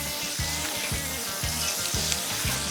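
Marinated skirt steak with onions piled on top cooks on a flat top griddle, a soft continuous sizzle with faint rhythmic scraping or pulsing underneath and no talking.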